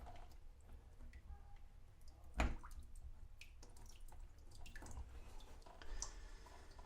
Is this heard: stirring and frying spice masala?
no